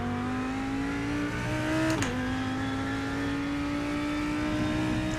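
A GT3 race car at Sebring in the iRacing video game drones with a steady, loud engine note that drops sharply partway through, as on a downshift or lift, then holds steady again.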